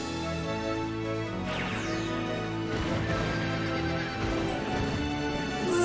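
Horses neigh and whinny as bandits tumble from their mounts in the Suikoden video game, with whinnies and hoof clatter rising over a sustained musical score.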